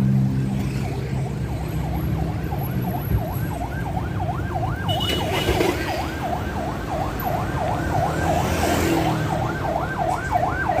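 A wailing emergency siren cycles up and down repeatedly, moderately distant, over steady road and engine noise with no talking.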